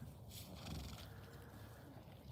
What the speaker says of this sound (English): Lex is a good horse